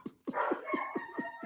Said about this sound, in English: Sean, excuse the dogs. As soon as I speak, they speak